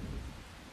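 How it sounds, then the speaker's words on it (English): Rain and a low rumble of thunder in Persona 5 form a brief, steady wash of falling rain over a deep, muffled roll. "It is raining today."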